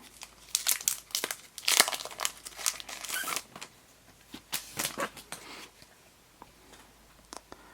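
Crinkly card packaging from a Power Rangers: Heroes of the Grid Phase 2 card game is handled during unboxing, giving a close run of sharp crackles and rustles in irregular bursts, with no talking.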